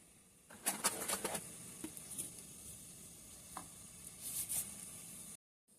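Strawberry blueberry jam without pectin being stirred in a pot, with soft scraping strokes and gentle bubbling in short bursts, a quieter stretch in the middle, then sudden silence near the end.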